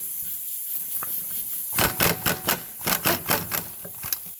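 An impact wrench removes the rear wheel hub bolts on a 2006 Subaru Outback. After a quiet lead-in, it hammers close and loud in a rapid run of about eight bursts.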